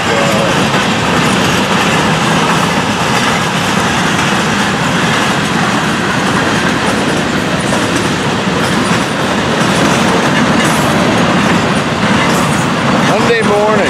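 A Florida East Coast freight train with a hopper car rolls past close by, a loud, continuous roar of rumbling wheels and rhythmic clickety-clack on the rails, with a faint squeal near the end.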